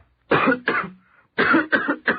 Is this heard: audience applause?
no